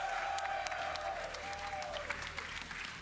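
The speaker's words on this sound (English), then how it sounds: "Round of applause for Mouse Sports" Sustained crowd applause fills a large esports arena at the ESL Pro League Season 18 CS:GO grand final, with dense clapping and cheering throughout and a faint sliding tone underneath.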